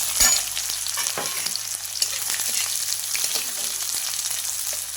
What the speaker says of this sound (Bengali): এগুলো ভাজা হয়ে গেলে দিয়ে দিলাম পেঁয়াজ